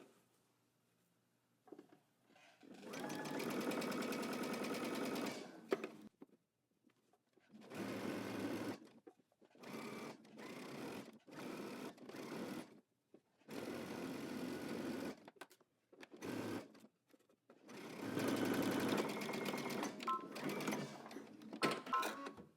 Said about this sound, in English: you're going to stitch it at the 5/8 of an inch seam, and you're going to pull as you stitch.